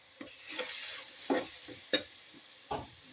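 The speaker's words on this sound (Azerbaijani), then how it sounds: "biraz tomatdan soğanı karıştırırıq ki yeməyə rəngi yaxşı çıxsın" Onions fried with a spoonful of tomato paste and a little water get stirred in a pan for kiftə, a soft sizzle punctuated by several distinct scraping strokes of a spoon, fairly quiet and without talk.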